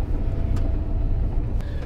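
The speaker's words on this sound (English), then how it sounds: "So while driving this car, you feel okay, especially when you drive off-road." Interior drone of a 2019 Suzuki Jimny 1.5 AllGrip four-wheel-drive car being driven, a steady low engine and road rumble throughout with a few brief clunks.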